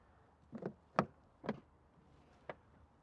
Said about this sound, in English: the SE's got soft closed doors too